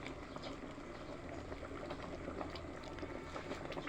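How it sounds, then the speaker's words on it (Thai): Bamboo shoot curry bubbling in a pot, a steady, close, continuous boiling hiss and churn with no pauses and no one speaking. "ให้มันเดือดก่อน"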